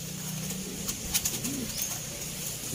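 Pigeons cooing at feeding time, soft low coos close by over a quiet outdoor background, with a few faint bird calls around them.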